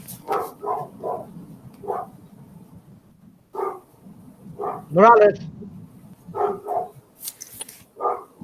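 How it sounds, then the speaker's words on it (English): A dog barks in short bursts off in the distance outside a window, several times, under ongoing conversation between people during a math class review session. "it's a dog from like outside of my window"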